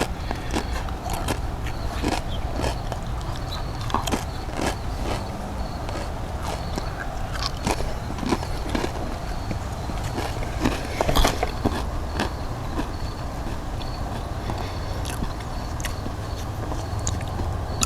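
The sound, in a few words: biting and chewing thin restaurant nacho corn chips with salsa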